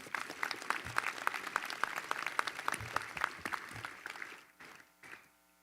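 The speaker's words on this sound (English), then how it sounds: "Let's give this support system another round of applause before we begin." A crowd at a university commencement ceremony claps steadily in sustained applause, dense and lively, then tapers off into scattered claps before fading out.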